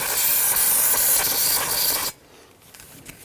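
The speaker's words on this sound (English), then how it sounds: "Then go ahead and take some spray solvent," Spray solvent hisses loudly and steadily onto a Hyundai Elantra rear brake assembly, a broad close-up aerosol blast lasting about two seconds before cutting off abruptly into near silence.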